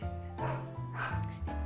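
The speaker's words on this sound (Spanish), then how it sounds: "Ahí está el perro otra vez." A dog barks and yips in short bursts amid household noise, with a voice talking over it and a steady low hum underneath.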